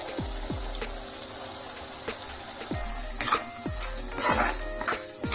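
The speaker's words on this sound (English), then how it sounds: "Stir this well and continue chopping it with the help of your ladle." Chopped chicken being stirred with a ladle in a hot pan, with a soft sizzle beneath repeated metallic clanks and scrapes of the ladle against the pan, close and moderately loud.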